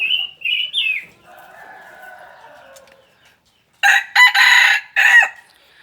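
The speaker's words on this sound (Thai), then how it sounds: "อายุสี่ปีแล้วแต่ก็ยังขันเหมือนเดิมครับ" A four-year-old Thai Charlie rooster crows loudly and close by, opening with a short call and finishing with a long, strained crow, with quieter clucking between.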